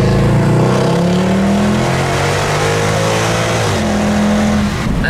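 A loud Mercedes-AMG C63 V8 engine revs hard and roars continuously in a tunnel, its pitch rising and falling with throttle, echoing in the enclosed space.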